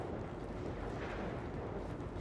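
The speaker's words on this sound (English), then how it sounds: "It is so windy today" Wind blows in the Goldrush RP game as a steady, dull roar of broadband rushing noise, fairly faint and unbroken throughout.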